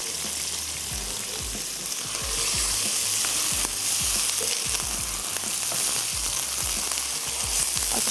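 Chicken frying in a pan with garlic and ginger paste, a loud, steady sizzle throughout with repeated clinks and scrapes of a spoon stirring, no voices.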